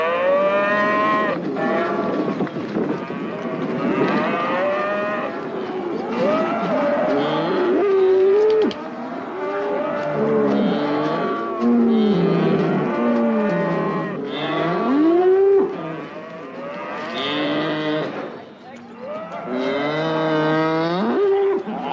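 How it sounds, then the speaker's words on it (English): Herd of cattle mooing repeatedly on a cattle station, loud and close, with overlapping drawn-out calls from several animals, some rising in pitch, continuing steadily throughout. "Better start branding that cattle."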